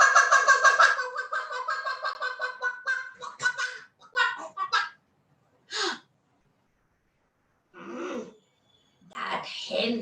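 A storyteller's voice imitates a hen clucking and squawking, a rapid run of nasal, rhythmic clucks followed by scattered short squawks and cries, close and fairly loud with gaps of silence between bursts.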